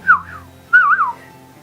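A person whistles two short rising-and-falling tunes close by, with a brief pause between them, while building a toy school bus.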